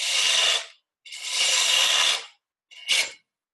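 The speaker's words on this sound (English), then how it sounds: "That was one of those uphill pulling it that I was mentioning that the roughing gouge can do." A roughing gouge bites into spinning wood on a lathe in three separate close, harsh, hissing cuts: two long strokes and a short final one, with silent gaps between them and no voices.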